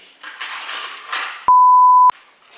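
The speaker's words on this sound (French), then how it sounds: "Je mettrai des bips." A single loud, pure censor beep cuts in for about half a second between stretches of quiet rustling.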